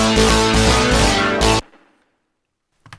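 Layered synth lead recreating a song plays as a dense, bright chord-rich burst for about a second and a half, then cuts off abruptly into a fading tail and near silence, with a brief soft hit at the end.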